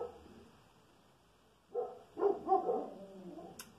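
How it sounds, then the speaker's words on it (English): A dog barks several times in a short burst from a little way off, the sharp barks standing out against a quiet room. "Don't mind my dog."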